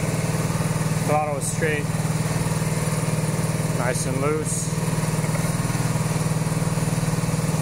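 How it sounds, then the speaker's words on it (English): A cafe racer motorcycle engine idling slightly high while warming up, a steady close putter throughout as someone talks briefly over it. "I raised the idle a little bit just to let it warm up."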